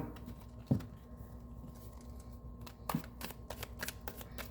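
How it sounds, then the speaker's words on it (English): A deck of tarot cards being shuffled, quiet soft card riffles and taps with two brief louder snaps, faint and close in a still room. "Fairly easy to shuffle."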